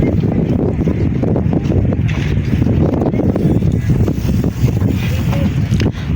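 Steady, blustery wind in Baguio rumbles across the microphone in a continuous low roar, with faint voices buried underneath.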